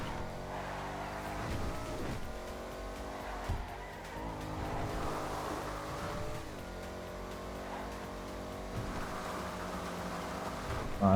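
Baller ST-D SUV driven in GTA V Online, a steady game engine drone with shifting revs and brief tyre noise, continuous throughout with no voices.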